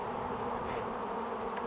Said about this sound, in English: That's a good amount of bees.